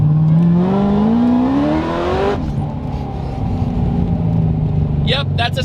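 Corvette ZR1 V8 accelerating hard in a second-gear roll-on, a loud rising engine note that climbs steadily, then a gear change to a lower steady drone, with a voice talking over it.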